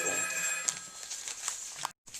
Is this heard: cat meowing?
no